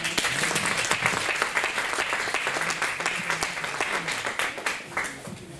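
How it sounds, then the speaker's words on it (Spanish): An audience at a talk on an artist's work applauds, a lively, continuous clatter of many hands, fairly near, tapering off slightly toward the end with faint voices underneath. "vamos a darle un aplauso"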